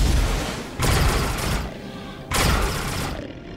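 A blaster pistol in Star Wars: The Old Republic fires twice, each shot a loud distorted whooshing burst that rings out for about a second, with a short gap between them and no talk.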